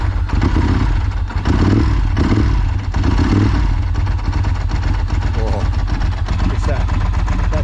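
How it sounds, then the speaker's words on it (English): A Ducati 916 motorcycle engine starts and runs close by, a loud, throbbing idle with clattery blips of revving, while people talk over it. "Oh, it's that Ducati sound."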